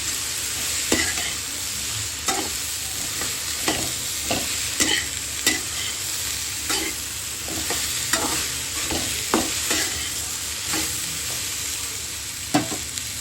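Okra frying in a pan for a North Karnataka bendekayi chutney, a steady sizzle under repeated sharp scrapes of a spatula stirring the pieces, close and fairly loud with no talking.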